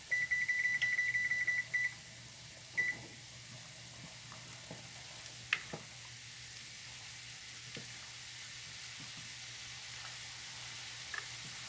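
A kitchen timer beeps as it is set: a run of rapid electronic beeps, a short follow-up beep, then quiet cooking sizzle.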